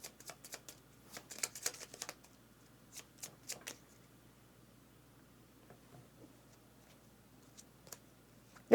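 Cards for the Ground Floor board game are shuffled in quick, close riffling bursts with sharp papery ticks, then quieter handling and a few scattered taps, with no talking.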